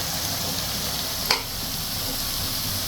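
Koftas roast gently in butter over a low flame on the stove, giving a steady soft sizzle throughout with one brief sharp tick partway, no voices.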